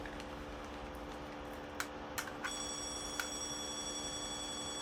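A Power Rangers Lost Galaxy Magnet Defender morpher toy chirps a few short electronic clicks, then emits a steady high electronic tone, faint and close against a hissy background.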